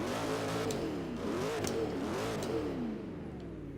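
A Chevrolet-based V8 car engine revs in Forza Horizon 3, a loud, continuous engine note rising and falling through several sweeps of throttle, up close and alone without talk.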